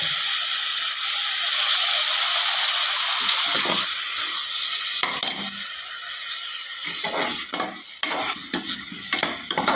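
Tomatoes with a little salt sautéing in a pan for Kongu-style rice and lentil dish, a steady loud sizzle with scraping stir strokes and clatter growing busier toward the end.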